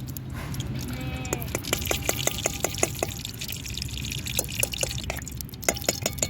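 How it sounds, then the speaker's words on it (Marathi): Ghee is poured and dripped in for khichdi, a run of sharp, rapid liquid ticks and drips over a low background murmur, close by and fairly quiet. "आईने तूप घेतलं टाकून खिचडीसाठी"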